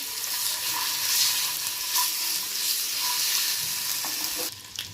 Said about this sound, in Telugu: ఎగ్స్ బాగా ఫ్రై అయ్యాయండి